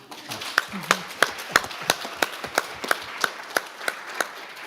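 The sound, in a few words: audience applause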